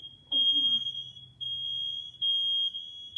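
Smoke alarm under test gives three separate high-pitched beeps, each lasting about half a second, with short gaps between them. The beeps are faint and thin rather than loud, with a low hum and a brief rustle underneath.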